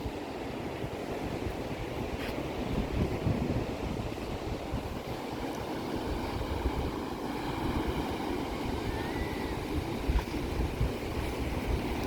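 Steady roar of sea waves and surf on the coast at Agno, broad and continuous with wind rumbling over the microphone, no voices.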